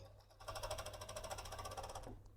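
A sewing machine runs steadily for about two seconds stitching the seam of an envelope cushion cover, a fast even whirring rattle, close and fairly quiet, stopping abruptly.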